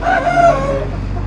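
A rooster crows close by in a single drawn-out call over steady low background noise, among chickens that are being sold.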